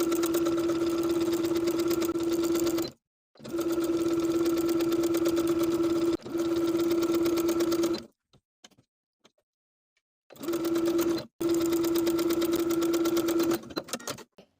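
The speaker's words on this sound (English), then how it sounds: "So I'll be sewing this neckband with a 1/4 inch seam allowance." A sewing machine stitches a neckband onto a V-neck tank dress with a quarter-inch seam, running in three steady, close-up bursts of rapid whirring separated by short pauses.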